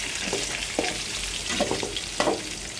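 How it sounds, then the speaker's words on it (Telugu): Green chillies fry in a pan with a continuous hiss and sizzle, broken by a few stirring scrapes, close and fairly quiet, no talking. "పచ్చిమిర్చి, పచ్చిమిరపకాయలు వేగిపోతున్నాయి."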